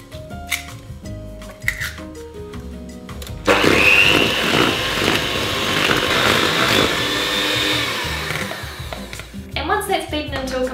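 Electric mixer creaming softened butter with caster sugar for white chocolate and strawberry biscuits, a loud steady whirring drone that starts abruptly after some talk, runs several seconds, then cuts off as speech resumes.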